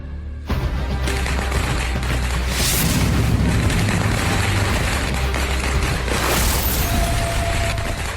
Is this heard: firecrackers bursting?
yes